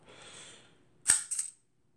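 A Camera Corporation of America Perfex Fifty Five with a faulty curtain that does not return properly releases its shutter in one sharp, loud mechanical snap followed quickly by a second, softer clack, close up and without talking.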